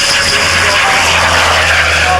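A large multi-engine aircraft rolls down runway 28 on its takeoff run at the Leicester Airshow in 1995, giving a loud, steady, close engine roar throughout.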